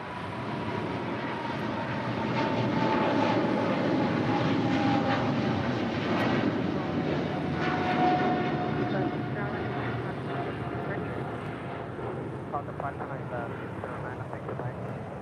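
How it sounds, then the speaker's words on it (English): An Eva Air Cargo jet departs LAX bound for Taipei, its engines a steady broad roar that swells and holds for the whole stretch, loud and unbroken, with faint voices nearby. "Eva Air Cargo, flight 609, heading back to Taipei"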